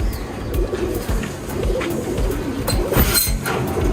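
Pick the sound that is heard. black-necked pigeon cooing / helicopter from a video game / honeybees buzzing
black-necked pigeon cooing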